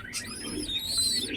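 Domestic pigeons kept as pets coo softly nearby in a short, gentle burst of calls.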